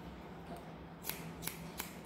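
Scissors snip hair during a traditional men's haircut, three quick faint clicks spaced apart over quiet room hiss.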